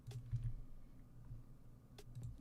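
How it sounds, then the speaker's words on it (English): Faint, close clicking of a computer mouse used for digital drawing, a few soft clustered clicks over a low background hum. "I don't know if you can hear the clicking of the mouse"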